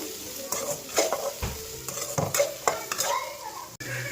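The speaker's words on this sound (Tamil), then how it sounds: "இதை நல்லா ஃப்ரை பண்ணி எடுத்துக்கலாம்." Large onions with green chillies frying and being stirred in a pan, a steady close sizzle broken by repeated scraping strokes of a spoon against the metal.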